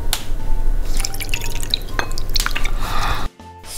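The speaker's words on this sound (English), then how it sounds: "Added the snow, now the water." Water is poured over instant snow powder in a bowl for slime, with close, bright dripping and splashing for about three seconds before it stops abruptly.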